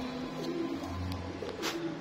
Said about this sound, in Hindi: ये पुराने कबूतर है, रेशमा ब्रीड है ये भी